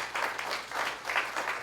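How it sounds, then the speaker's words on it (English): Audience applause at a Hot Topics 2016 event: a short, steady patter of clapping hands that sounds distant and moderately quiet, with no voices over it. "let's have another round of applause for Leah"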